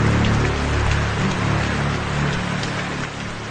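Steady rain pours in an emotional scene from the Telugu film Manasantha Nuvve. The downpour is dense and even, with a low rumbling wash and no voices.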